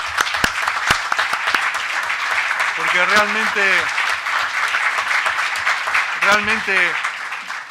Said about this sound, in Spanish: yo le quiero dar un aplauso a mis compañeros